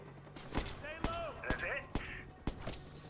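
Several sharp gunshots in the Watch Dogs video game ring out at irregular intervals at low volume, spaced about half a second apart, between chirpy electronic game tones.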